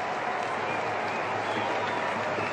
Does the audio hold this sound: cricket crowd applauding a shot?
yes